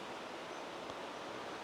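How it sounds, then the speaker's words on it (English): A babbling brook outdoors on a fresh morning after overnight rain, a steady, soft, broadband rush of flowing water with no breaks, heard alone. "I don't know if you can hear the brook babble behind me."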